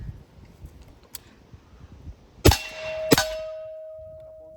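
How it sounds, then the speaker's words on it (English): Two sharp reports from a suppressed 300 Blackout SBR with an 8-inch barrel firing 220-grain subsonic ammunition, each followed by a ringing steel target clang that hangs and slowly decays, outdoors near woods. "We are an 8-inch barrel, suppressed, subsonic ammunition,"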